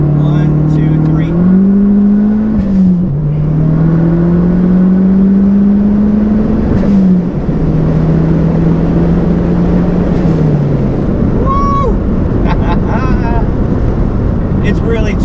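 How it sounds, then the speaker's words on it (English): A Dodge Neon SRT-4 engine drones and surges as the brake is held while the throttle is applied around 40 mph, the engine and turbo whine shifting in pitch over constant road and wind roar. "I'm going to start applying the brake, slow the car down, just get on the gas."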